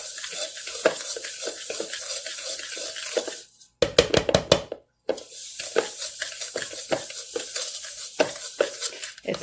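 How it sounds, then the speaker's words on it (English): Molasses cookie dough being stirred by hand in a bowl, a steady run of close scraping, clinking strokes with a brief pause partway through before the stirring resumes. "she stirs them always by hand because you don't want to over stir these"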